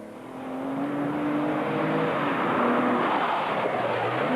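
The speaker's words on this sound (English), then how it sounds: "Not surprisingly, Rick Bates throws his Porsche around the forest tracks as though there's no tomorrow." A Porsche rally car driven hard on forest tracks during a long-distance marathon rally, its engine roaring steadily and loudly as it powers along the stage, holding a strained note with no talk.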